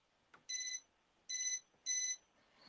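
A Janome Memory Craft 550E embroidery machine emits three short, high electronic beeps in quick, slightly uneven succession, quiet and alone, with a soft click just before the first.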